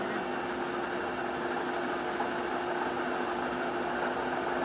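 A WMW UPW 12.5.1 thread rolling machine runs steadily in a workshop, giving a loud, constant mechanical drone with a fixed whine and no clear pauses as its RPM is raised.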